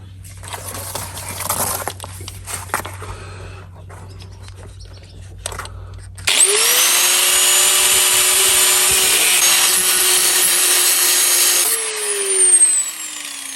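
An angle grinder cuts into the rusty wheel arch of a Fiat 126, first with scraping and handling noises, then a loud, steady high whine from the disc biting metal that dips in pitch as it slows at the end.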